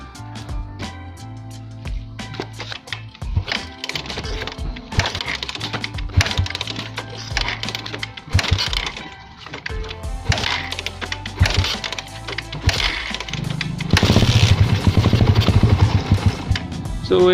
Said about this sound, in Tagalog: nakailang tadyak ako bago siya andar